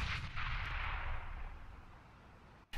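Gunfire in a competitive video game match, an AEG rifle shot among others: a loud burst of firing at the start rolls off into a fading rumble, with no voices over it.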